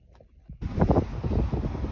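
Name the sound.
strong wind on a mountain pass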